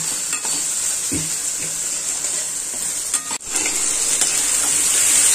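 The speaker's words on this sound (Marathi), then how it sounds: "आता ह्या चांगला परतून घ्यायचा" Garlic, green chili and coriander sautéing in a pan, a steady bright sizzle running throughout with occasional soft stirring scrapes and a brief dip near the middle.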